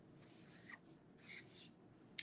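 A Sharpie Creative Marker writes on regular paper in quiet, faint strokes, three short scratchy bursts of felt tip on paper with a small tap at the end.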